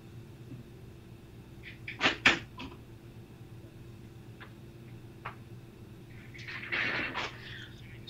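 A door at a room during a remote lecture. A couple of quick, faint knocks or clunks sound close together, then a few scattered small clicks and a softer rustle against a quiet background hum.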